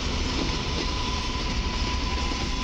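At Warszawa Zachodnia, an EN57 AKM electric passenger train on the Piaseczno–Dęblin route gives a continuous close rumble with a faint steady whine running through it.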